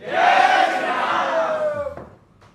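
A large audience at a live interview stage event welcoming Dhirendra Krishna Shastri of Bageshwar Dham, loud sustained cheering and crowd roar that builds quickly, holds, then fades out near the end.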